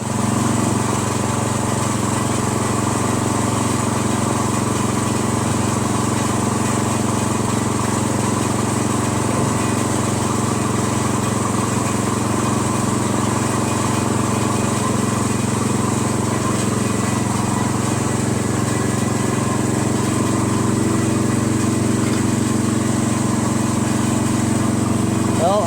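A Poulan 16.5 lawn tractor engine with a loose baffle plate rattling inside its muffler runs steadily and loud throughout, a constant droning hum that never changes pace.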